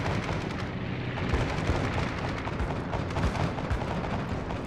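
Warship guns firing in World of Warships, an Omaha-class cruiser battle, dense rolling booms and rumbling blasts in a continuous loud barrage without speech.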